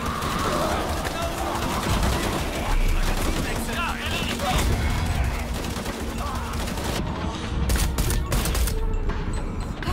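Rapid bursts of gunfire in the video game Shadow of the Tomb Raider crackle continuously with dense automatic fire and heavy impacts, loud throughout, with a voice faintly underneath.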